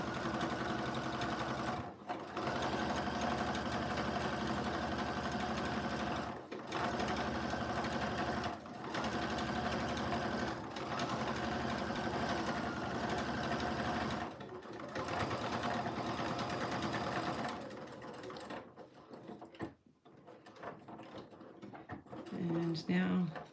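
A sewing machine stitches a line on jeans close to the seam, running in several steady buzzing bursts separated by brief pauses before stopping, with faint handling noises afterward.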